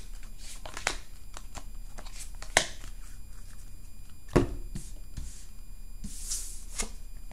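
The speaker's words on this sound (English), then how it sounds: "let's get your cards out." Oracle cards shuffled by hand nearby, giving scattered soft slaps and riffles with a couple of sharper snaps, no voices.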